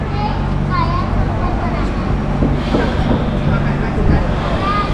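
A train pulls in at a Singapore station serving the beach, its steady rumble and rail noise filling the clip under people talking nearby.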